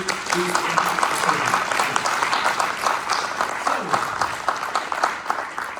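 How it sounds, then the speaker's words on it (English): Steady round of applause from a conference audience, dense even clapping throughout, with a few voices murmuring underneath. "We should give DLEC a round of applause for an exceptional meeting"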